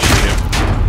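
A brief, loud burst of gunfire in the shooter game Modern Warfare, a dense rumbling volley with a sharper crack midway, no voices over it.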